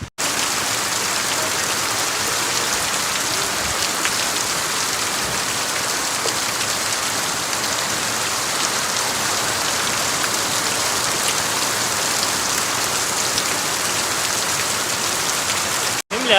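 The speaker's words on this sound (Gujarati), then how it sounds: "જો વરસાદ પાછો આવો ગયો" Steady, heavy rain pours down without a break, a dense hiss filling the whole stretch.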